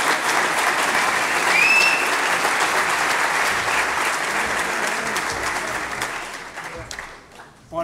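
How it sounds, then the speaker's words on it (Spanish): Loud, sustained applause from a conference audience fills the room, steady for several seconds before tapering off near the end, with no clear speech over it. "Yo quiero que le den un aplauso."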